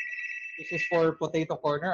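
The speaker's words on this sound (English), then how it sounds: "I apologize for the phone ringing." A ringing telephone sounds during an online franchise business presentation, a steady high electronic tone about a second long that gives way to someone talking over it.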